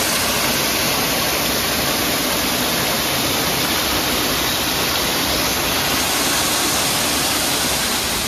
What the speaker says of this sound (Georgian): ასეთი წყლის წისქვილია.